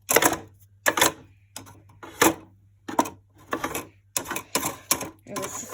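Toy Hoover washing machine drum spun round by hand, heard as a series of sharp plastic clicks and rattling bursts in an irregular rhythm, close up, over a faint low hum.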